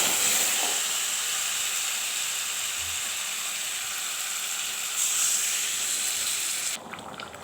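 Water is poured into a pan of sautéed taro, ridge gourd and fish head curry, setting off a loud, steady hiss and sizzle that swells briefly before cutting off abruptly near the end.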